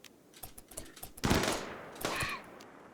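Gunfire from colonists in the video game Rimworld, with a run of quick small shots followed by two louder bursts with ringing tails, fairly close, no talking.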